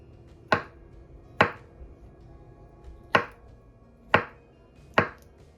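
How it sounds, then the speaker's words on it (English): Knife chopping a salad ingredient into cubes on a cutting board: five sharp, separate, close thuds at uneven intervals, with quiet gaps between them. "I'm going to cut this into cubes."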